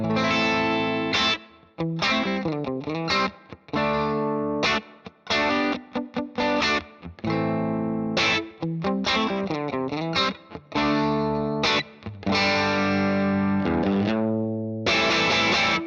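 Heavily distorted electric guitar through an Axe-Fx III amp simulator plays choppy chords and riffs with short gaps, sounding wide and processed like a miked amplifier with faux stereo mics.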